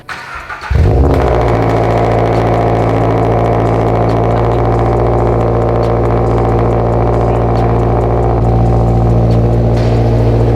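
A car engine starts with a brief crank and catches, then settles into a loud, steady idle close by that runs alone for about ten seconds.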